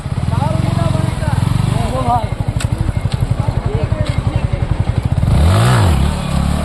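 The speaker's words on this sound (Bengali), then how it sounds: "এই যে বাইক দেখতে পাচ্ছেন এখন কিছু শর্ট ভাইজান আমাদেরকে দেখাবে" A motorcycle engine revs and idles during bike stunts on a busy bypass road, a loud close rattling drone with a rising rev near the end and no clear talk.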